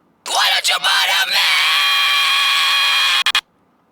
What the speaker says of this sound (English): So let's hear the P screams first.